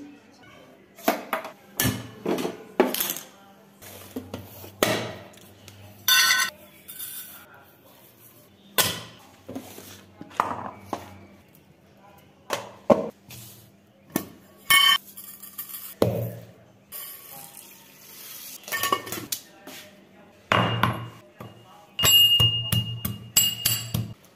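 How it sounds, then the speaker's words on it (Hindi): Tea being made in a home kitchen, with intermittent clinks and knocks of pots, cups and utensils spread across the scene, some sharp metallic taps and a few heavier thuds, over a low background hum. "तो फिलहाल चाय बनाते हैं बढ़िया सी"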